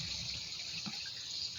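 Water streams steadily into a cooking pot for boiling bitter gourd, a faint continuous gush and splash at close range with no talking.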